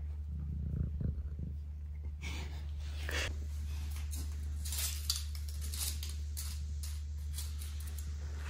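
A female cat purrs steadily while being petted, a soft low continuous rumble with faint rustling of fur and hands over it.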